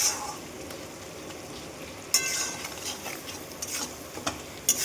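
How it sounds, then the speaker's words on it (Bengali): Sliced onion and bay leaf, seasoned with salt and turmeric, fry in hot oil for a home-cooked Bengali meat curry. A faint, steady sizzle runs under a few sharp spoon scrapes and clanks against the pan. "দিয়ে এখন পেঁয়াজটাকে একটু ভাজা ভাজা করে নেব"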